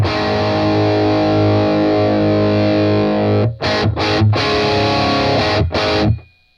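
Heavily distorted electric guitar through a Boss Katana amp with the treble turned all the way down, a loud sustained chord ringing for about three seconds, then a few choppy rhythmic stabs before it cuts off.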